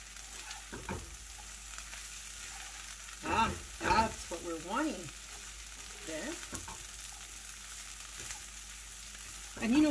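A tostadito toasts in a pan with a steady, soft sizzle throughout, joined by a few brief voice-like sounds midway and at the end.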